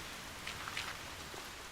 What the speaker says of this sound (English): the rain is making us lag today.